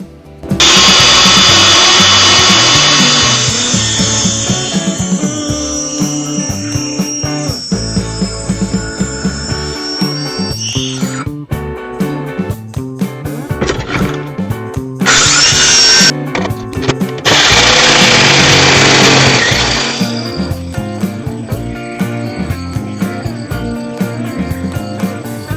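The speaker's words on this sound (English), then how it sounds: "I'm just gonna run my saw back and cut this off as straight as I can" A power saw run along a sheet of drywall in a basement being turned into a workshop, cutting it off straight; loud bursts of whining motor and cutting noise come in several passes with brief pauses, and no one talks.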